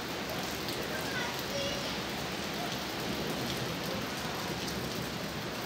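Rain pours steadily, a dense, even hiss of drops hitting surfaces close by, constant throughout.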